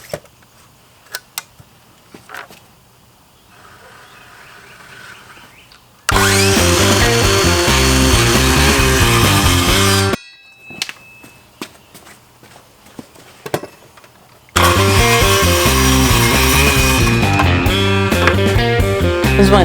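A power saw cuts scrap wood for a rustic DIY table. Two long, loud, sustained cuts are separated by a quieter gap of workshop knocks and footsteps.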